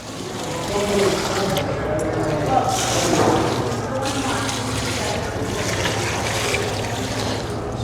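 Tree chemical solution poured from a bucket onto soil around a tree's drip line: a soft, steady splashing pour running for several seconds, faint and continuous, with no talk.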